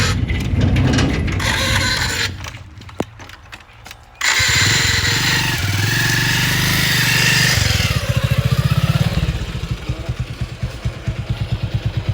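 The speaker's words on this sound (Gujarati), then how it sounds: "પગનો ટેકો મારીને ખોલવો પડે ગેટ" A metal gate scraping and rattling as it is shoved open with a foot, with clanks and a ratcheting grind, followed by a running motorbike engine nearby.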